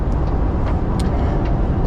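Steady low road rumble from a car driving home from the races, a continuous broadband roar of engine and tires with a few faint high hisses, close and unbroken for its short span.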